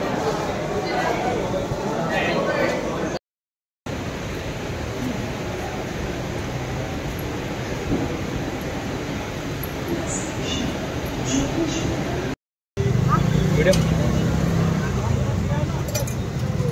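Riding a Mumbai local train, a continuous rumble of wheels and carriage noise with rattles fills the ride, broken by two brief cuts, while people talk faintly in the background.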